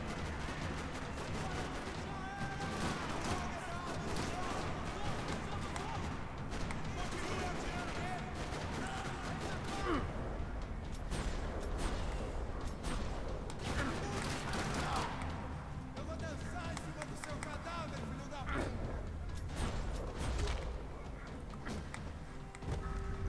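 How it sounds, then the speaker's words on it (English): Sustained gunfire rattles through a parking lot in Max Payne 3, dense bursts layered with game music and effects and voices talking over the continuous, loud action. "Another parking lot rattling with gunfire."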